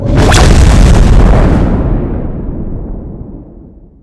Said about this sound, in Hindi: एक धमाका होता है